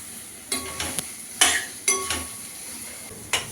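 Ginger and garlic are stir-fried in a pan with a spatula during the preparation of methi matar malai, heard as several scraping, sizzling strokes at an irregular rhythm over a soft background hiss.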